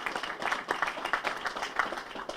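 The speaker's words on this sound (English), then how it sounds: "So let's give them applause." Audience applause fills a public announcement event at Buffalo Central Terminal, a dense, steady crackle of many hands clapping at moderate distance, fairly quiet, without speech over it.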